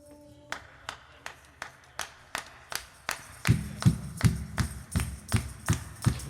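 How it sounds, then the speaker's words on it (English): An audience at a book release performance claps in unison to a steady beat, evenly spaced sharp claps that grow louder and fuller halfway through as a low thumping pulse joins in. "So if you don't have a noisemaker, I need you to clap, okay?"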